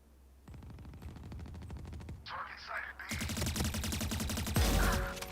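Rapid automatic gunfire in the tactical shooter Valorant, dense bursts of close shots running almost continuously, with brief gaps and a louder final stretch, mixed with game effects and someone talking over it.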